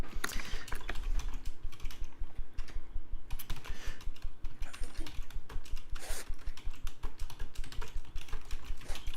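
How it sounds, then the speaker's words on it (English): Steady rapid typing on a computer keyboard, clicking keys close and loud in a continuous patter, with short pauses and occasional heavier keystrokes throughout. "Okay, done typing."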